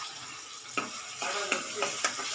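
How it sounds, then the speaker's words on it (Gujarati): A spoon stirs ground coriander-cumin, turmeric, asafoetida and chilli powder in a hot pan for cauliflower curry. It gives a soft, faint sizzle with a few light scraping taps as the spoon moves. "આપણે એને સરસ હલાવી દઈશું"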